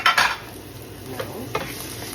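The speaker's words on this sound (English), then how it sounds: "put them all, mix them all together so all the flavor will add up" Bay leaves, tomato paste and pork ribs stirred together in a pan: a scraping stir sweeps up close, then a low simmering sizzle continues beneath.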